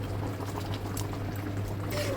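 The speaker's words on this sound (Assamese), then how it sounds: "ভাজি হৈ যোৱাৰ পিছত এতিয়া মই পানী দিম" Water poured into a pan of fried brinjal curry with egg in a home kitchen, a close, steady hissing pour that continues throughout.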